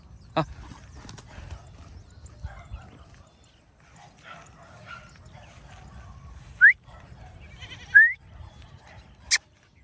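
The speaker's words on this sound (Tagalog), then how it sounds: "Umaano yung mga kambing dyan?" Goats bleat a few times, sharp short calls scattered over low rustling and quiet background noise.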